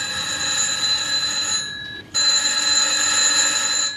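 A telephone rings in an old German crime radio play, with two long electric rings split by a brief silence, loud and alone.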